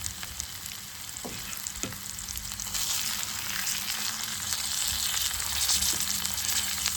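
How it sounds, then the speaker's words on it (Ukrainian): Steady, crackling sizzle of fish and onions frying in a hot pan, continuous and close, with occasional soft clinks of a utensil. "рибка смажиться. Смажиться і цибулька"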